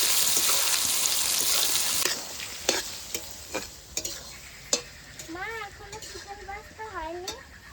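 Onion fried lightly with a pinch of salt for chicken pasta sizzles loudly in the pan at first, then a spoon stirs it with scattered scrapes and taps while someone talks over it.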